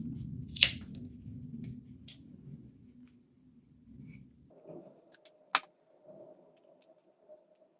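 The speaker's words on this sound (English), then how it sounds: "We're only trimming the fabric." Scissors trim the fabric at a bag's corner, giving a couple of sharp, isolated snips against a quiet low hum.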